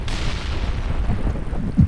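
Explosion in a shooting video game: a loud boom at the start that decays into a rumbling tail, with a second short thump near the end and no speech.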